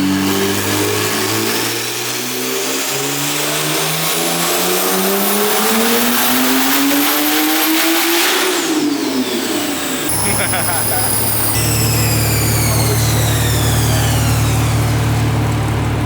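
Big-turbo BMW 135i on a dyno, running JB4 map 6 at about 32 psi boost, revs loud and close with rising engine pitch up to a peak, a brief drop as it shifts or lifts, then sustained high-rpm roar, with voices over it.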